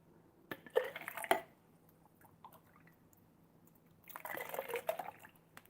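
Water is poured into a measuring cup while homebrewing a mash for an Athletic Breakfast Ale, in two short splashy bursts of liquid with a quiet gap between them and no voices.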